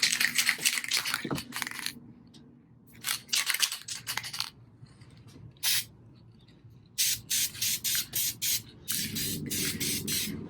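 Clear coat sprayed from an aerosol can onto VW bus engine tins comes as a series of short, sharp hissing bursts separated by pauses, with a quick run of rhythmic spurts near the end.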